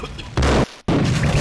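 Gunfire rings out in the video game Max Payne: a short loud blast, then after a brief gap a longer heavy burst of shots, booming and close.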